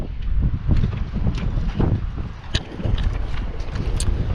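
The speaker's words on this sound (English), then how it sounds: "it's very windy" Heavy wind buffeting a microphone, a continuous low rumble with gusty surges and occasional clicks, no voices.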